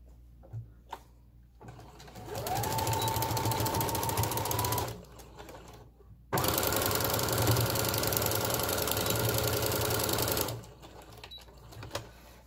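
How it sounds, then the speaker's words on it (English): Domestic sewing machine running a straight stitch along the edge of jersey fabric: two sustained bursts of rapid mechanical whirring, each several seconds long, separated by a short pause, with a few small clicks around them. "you're just going to want to sew down this edge with a straight stitch again"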